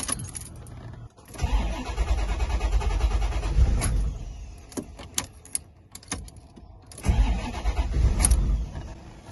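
A Corvette C4 ZR-1 barn find cranks in repeated start attempts, the starter whirring and churning in bursts separated by clicks and pauses, without the engine catching.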